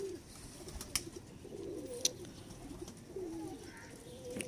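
Pigeons from a breeding pair of a named bloodline give soft, low, repeated coos, fairly close in a quiet setting, with a couple of sharp clicks and faint background chirps.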